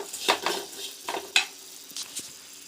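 Raw banana fry being stirred in a pan, with soft sizzling under a few light scraping strokes of a spoon against the metal, close and fairly quiet.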